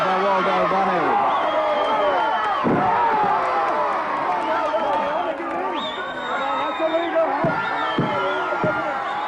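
A wrestler crashes down in a leg breaker move during a televised championship wrestling bout in Australia, several heavy thuds sounding under continuous commentary with an arena crowd roaring throughout.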